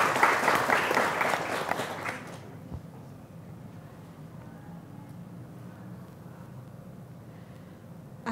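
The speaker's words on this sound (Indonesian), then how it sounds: "Boleh berikan tepuk tangan untuk Ibu Kun Ernawati." An audience claps for a speaker being introduced at a museum visit by a culture office. The loud applause lasts about two seconds, then stops, leaving a quiet room hush.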